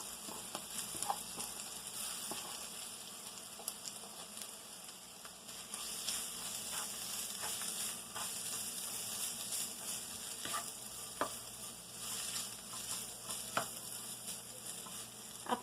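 Shredded cabbage with garlic fries in oil in a pan, giving a continuous crackling sizzle dotted with sharp pops and spits, with no one talking.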